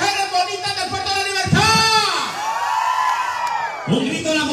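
A crowd of spectators at a Christmas parade in La Libertad, El Salvador, shouting, whooping and cheering in loud overlapping bursts, with voices rising and falling together nearby.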